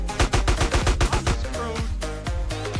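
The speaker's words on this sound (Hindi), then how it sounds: "तू अंदर ही गोलियां मार रहा है क्या" Quick volleys of GTA San Andreas gunshots, a fast run of sharp loud reports at first, then thinner, more scattered shots trailing off.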